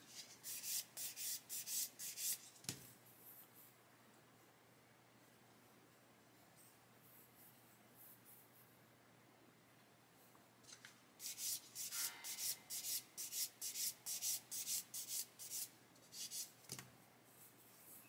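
Quiet rhythmic sanding strokes on a plastic model part, two bursts of quick back-and-forth rasping separated by a calmer stretch of faint rubbing, close up with no talking.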